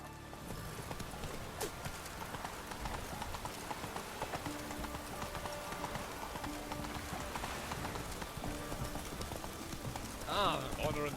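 Roach the horse in The Witcher 3, a steady clip-clop of hooves under game ambience and faint rain, with a character's voice briefly heard and a whinny near the end.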